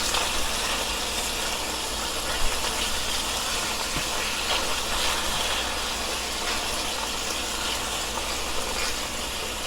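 Ginger garlic paste frying in a hot pan while cooking kaleji masala gives a steady, even sizzle and hiss that holds at one level throughout, with no talking.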